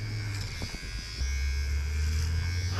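Electric clippers trimming a pony give off a steady, close electric buzz that runs throughout and grows louder and fuller about halfway through.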